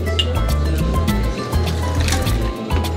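Tea-brewed Mount Gay rum is poured out in a 1.5-ounce measure for a martini, a close, continuous liquid gurgle and splash lasting a few seconds with no talk over it.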